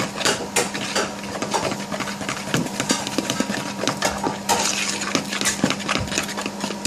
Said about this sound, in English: Give it a good stir up.